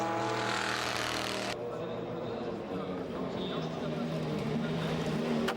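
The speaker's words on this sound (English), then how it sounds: "flinging his car through the S's" An Audi race car at Le Mans in 2003 roars through the esses, a loud sustained engine note that drops in pitch partway through as it passes close by, with no talk over it.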